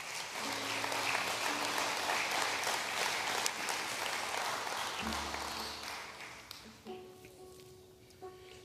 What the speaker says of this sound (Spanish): Si va a darle un aplauso, déselo al Señor.